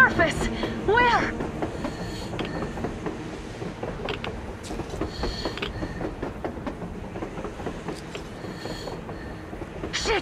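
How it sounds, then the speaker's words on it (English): A train passes in the Metro Exodus video game, a steady rumbling rush with rhythmic rail clatter that holds fairly constant throughout, amid other game sounds. "A train! A damn train on the surface!"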